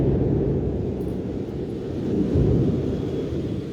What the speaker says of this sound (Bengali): কি ধামধুম বজ্রপাত হচ্ছে